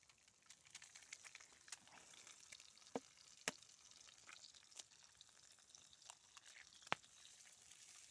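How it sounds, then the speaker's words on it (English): Fresh eggs fry in a pan beside bacon and Toulouse sausages, a faint, steady crackle with scattered sharper pops close by. "Just going to put me fresh eggs in."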